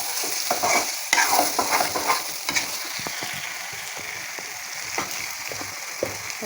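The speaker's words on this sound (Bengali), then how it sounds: "সবগুলো কলিজা কড়াইতে নিয়ে একটু কষিয়ে নিচ্ছি" Liver stir-fried with spices in a wok gives a steady sizzle under repeated scraping and clacking of a spatula, several louder stirring strokes early and sparser taps later, with no voices.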